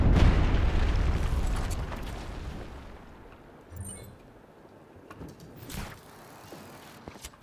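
A large explosion in the open-world game Just Cause 3 opens with a loud, low booming blast that rumbles and decays over several seconds, followed by a few smaller secondary bursts and debris sounds.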